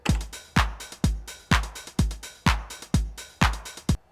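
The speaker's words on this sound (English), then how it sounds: "And let's move on with the open hi-hat." A Roland TR-909 beat drives ahead with a booming kick, backbeat claps and ticking closed and open hi-hats, a dense steady pattern of close hits with no voices.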